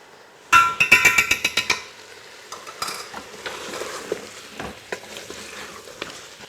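Chicken pilau with meat is stirred in a pot. A burst of rapid metallic scraping and clatter opens the sequence, then settles into softer, uneven stirring scrapes over a low sizzle.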